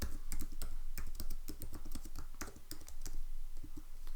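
Quick, uneven keystrokes on a computer keyboard, close and clear, tapping in a busy rhythm with no talking.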